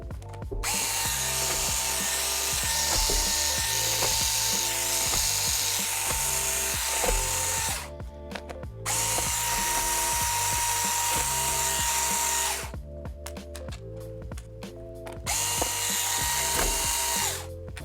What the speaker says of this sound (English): flip the unit over and take out the bottom cover screws